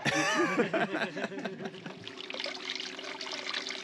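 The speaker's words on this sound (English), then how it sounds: "Only the best water for this gold wheel." Distilled water trickles and splashes steadily over a spinning spiral gold-panning wheel at a mine, a continuous close burble; a person talks over the first half.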